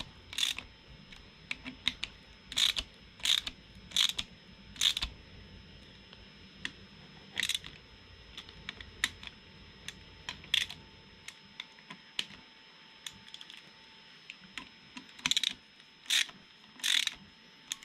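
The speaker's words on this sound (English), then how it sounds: "this little impact gun does not put a lot of torque on" A small impact gun tightens engine bolts during a motor build in short, sharp rattling bursts, about a dozen brief hits in uneven clusters with quiet gaps between them.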